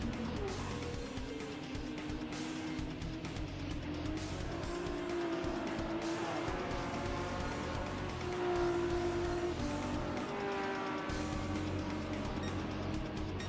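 Race cars roar in a racing video game during a team cup event, steady loud engine drone with rising and falling gear tones, tire squeal and overtaking passes, continuous throughout.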